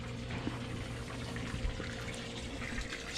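Water flows steadily from a boat's air-conditioning outlet in a continuous, gentle splashing trickle, fairly quiet and unbroken, with a faint low hum beneath it and no talk.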